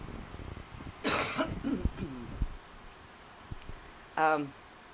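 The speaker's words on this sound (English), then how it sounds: "I'm still dealing with this bronchitis, so if I have to cough, I apologize" A person coughs twice, a harsh burst near the start and a shorter one near the end, with soft throat noises between in a quiet room.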